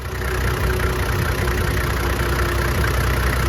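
Diesel engine of a Toyota Land Cruiser HZJ71 running at idle, a loud, steady low rumble with a faint knocking texture, close and alone.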